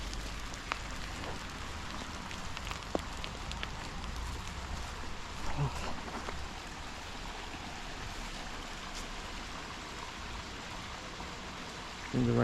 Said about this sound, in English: I think the rain's easing off.